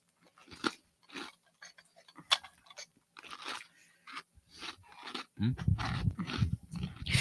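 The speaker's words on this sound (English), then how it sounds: "with a ginger snap. They're very crunchy." Crunchy ginger snap being bitten and chewed close up, a run of sharp crisp crunches and softer chewing with short pauses, heavier munching toward the end, no talk.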